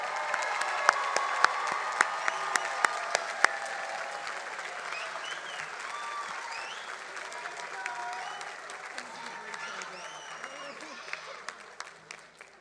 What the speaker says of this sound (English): give one more round of applause for our business graduates